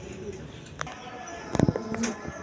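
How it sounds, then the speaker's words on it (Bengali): A pair of high-flying Giribaz pigeons cooing, a brief low burbling coo rising near the middle, close by, over faint background chatter and ambient noise. "দর্শক এখানে এক পেয়ার হাই ফ্লাইং গিরিবাস কবুতর আছে"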